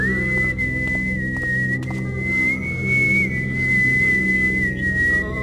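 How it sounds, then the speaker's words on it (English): A guard in the video game Thief Gold whistles a long, steady tone held almost unbroken for several seconds over a low droning background, with a few faint clicks. "get used to the whistling and everything that they do"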